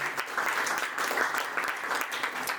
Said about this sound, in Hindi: तो एक बार पूरी टीम के लिए जोरदार तालियां होनी चाहिए